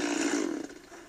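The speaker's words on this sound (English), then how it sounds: "Just him using a chainsaw in the commercial" A chainsaw runs steadily at close range in a radio commercial, a loud buzzing roar that holds for about a second and then starts to fade.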